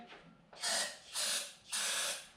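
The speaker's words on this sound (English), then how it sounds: "Let's just spray some starting fluid." Three short sprays of starting fluid into a classic BMW engine, each a bright hissing burst lasting about half a second, with brief pauses between them, close and loud.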